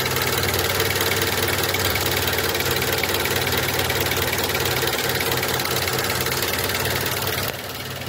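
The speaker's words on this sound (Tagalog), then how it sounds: "Yung vibration ng makina." Car engine idling with a steady, loud rumble and constant vibration during an idle speed control valve test, the drone continuous throughout and dropping slightly in level near the end.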